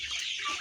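Fifty-day-old Sonali chickens on a poultry farm cluck softly and close by, a brief burst of faint clucking with no speech.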